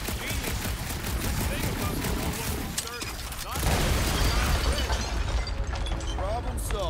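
Rock-blasting gunfire from Rocket in the video game Marvel's Guardians of the Galaxy, a dense, continuous crackle of rapid shots and shattering debris inside a cave, loud throughout and swelling louder partway, with game music and sound effects mixed in.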